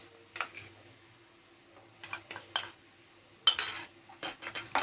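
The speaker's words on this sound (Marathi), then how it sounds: "इथे मी मसाला घालून छान असं खोबऱ्यासोबत परतून घेतलं" Onion-coconut masala paste with ginger and garlic being stirred in hot oil for a pea curry, giving several short scraping, sizzling bursts with quiet gaps between them.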